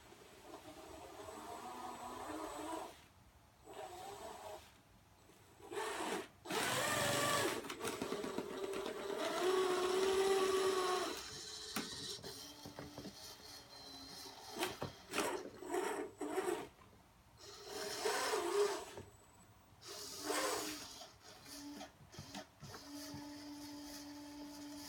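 A homemade servo-driven winch strains under load, giving a buzzing, whirring motor whine in several bursts of varying length with pauses between, close and moderately loud.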